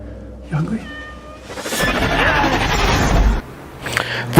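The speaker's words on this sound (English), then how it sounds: "Come here, kitty. You hungry?" A cat meows in short calls near a dark night street, with a burst of louder noise and a faint voice in between.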